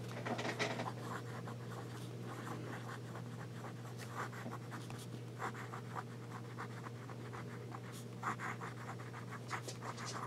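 A broad-nib Pilot G78 fountain pen moves across paper in soft, scratchy strokes, some downward and some sideways, quiet and close, with small bursts of friction over a steady low hum.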